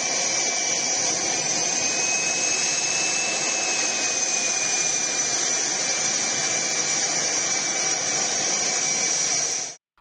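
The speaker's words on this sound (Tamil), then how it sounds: "தேஜஸ் MK-1A ரக போர் விமானம் ஓடுபாதையில் இருந்து புகையை கக்கியவாறு விண்ணில் சீறி பாய்ந்தது" A Tejas MK-1A fighter jet takes off from a runway at Nashik, a steady, loud, high-pitched turbine whine and roar holding for about ten seconds before cutting off abruptly.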